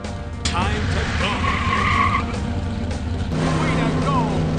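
A race car from Cars: Radiator Springs Adventures growls close by, its tires squealing in a skid with rising and falling pitch, while a voice speaks over the engine noise.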